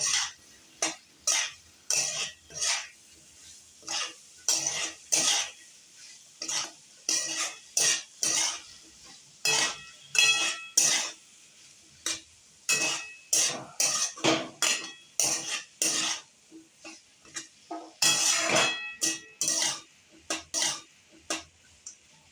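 A spoon scrapes and clatters rhythmically in a pan, stirring chopped onions with spices for a Kathiyawadi onion khariyu, with steady repeated strokes that are close and fairly loud and no talking.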